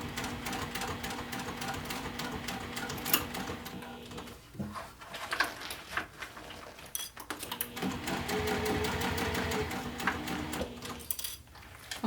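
A sewing machine stitches along a bag in a home sewing session, running in steady mechanical bursts with brief pauses between passes, close and fairly loud with no talking.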